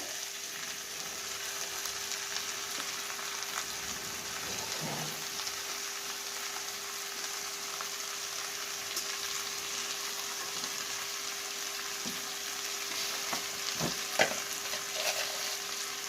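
Steady sizzling from a pan of banana flower being sautéed with prawns and tomato, a continuous hiss with occasional scrapes and taps of the spatula, close and unbroken, no talking.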